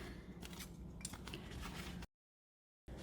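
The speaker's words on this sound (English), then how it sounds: "Cut away the rubber foam because it's going to be thick enough there on the side." Scissors snipping through thick rubber foam while making a DIY wallet, a steady run of crisp close cuts for about two seconds, then a brief silence before the cutting resumes.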